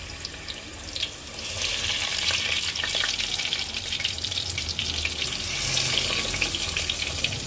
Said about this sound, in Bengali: মাছটা ভাজার জন্য কড়াইতে আমি তেল গরম করতে বসিয়ে দিয়েছিলাম, গরমও হয়ে গেছে। এখন আমি মাছগুলো ভেজে নেব।